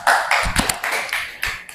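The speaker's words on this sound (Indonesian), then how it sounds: "Tepuk tangan dulu." Applause from students in a classroom, a short burst of scattered, close hand claps lasting under two seconds.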